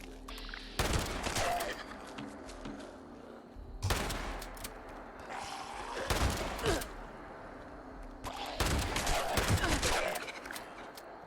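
Rapid automatic gunfire from a high fire-rate weapon in Fallout 76, four sustained bursts of dense shots separated by short pauses, loud and close with faint talk underneath.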